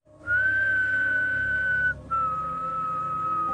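A single person whistles a long steady note, breaks off briefly, then carries on with a slightly lower held tone, loud and close with no voices.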